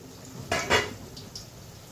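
A pot lid lifted off a cooking pot with two quick metallic clanks close by, followed by a faint light clink and quiet room hiss, no voices.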